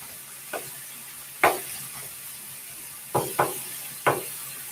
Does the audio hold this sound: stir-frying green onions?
yes